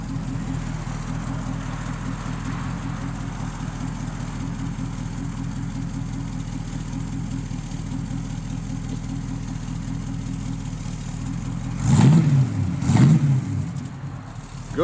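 A 1968 Pontiac Firebird V8 with dual exhausts and a mild camshaft idles with a steady, lumpy rumble, then revs up sharply twice near the end, each burst rising and falling quickly.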